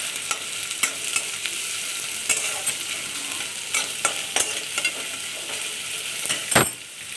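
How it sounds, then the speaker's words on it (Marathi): Finely chopped onions sauté in a little oil for a Marathi sukat thecha, giving a steady close sizzle with scattered sharp spoon scrapes and stirring clicks against the pan, no voices. "हे 2 कांदे घेतलेले मी बारीक चिरून, हे आपल्याला चांगला भाजून घ्यायचा आहे"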